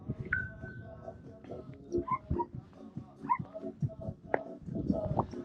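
Dogs yip and whimper repeatedly at moderate distance at a campsite in Estonia, mixed with outdoor crowd noise and murmuring voices.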